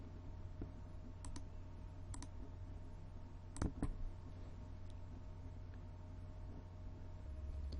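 A computer mouse clicks a few times, faint, sharp, isolated ticks spaced irregularly over a steady low hum of a quiet room, with no talk.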